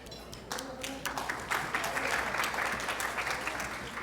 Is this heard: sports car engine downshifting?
no